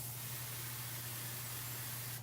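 Hair spray hissing in one steady, continuous burst onto a ponytail, close and fairly quiet, with a low hum underneath and no talk.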